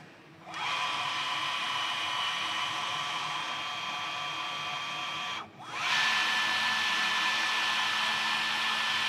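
An automatic thread tapping machine cuts internal threads, giving a steady high-pitched whine that briefly drops and restarts at a slightly different pitch partway through, close and continuous with no speech.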